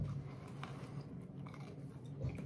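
Close, quiet chewing with soft crunches and moist mouth sounds, steady and continuous.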